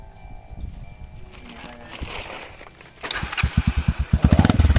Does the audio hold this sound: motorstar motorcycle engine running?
yes